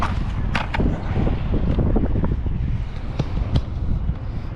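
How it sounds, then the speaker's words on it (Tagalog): Wind gusting at the seashore at high tide, buffeting the microphone with a loud, rough, continuous rumble and a few sharp knocks and crackles. "Medyo mahangin lang konti."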